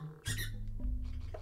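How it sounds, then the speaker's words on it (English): A dog's squeaky toy squeaks sharply in the Oddworld: Abe's Oddysee game, one bright squeal followed by softer squeaky chirps over a low background hum, with no talk. "Oh, now the dog is playing with the squeaky toy."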